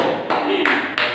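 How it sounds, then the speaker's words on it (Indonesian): Classroom students clapping in short bursts, a few quick claps that start and stop across about a second, close and moderately loud. "Tepuk tangan buat kalian."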